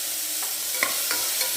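Spices such as cumin are tempered in a couple of spoons of sesame oil inside a pressure cooker, giving a steady close sizzle with a few faint clinks of stirring and no talk.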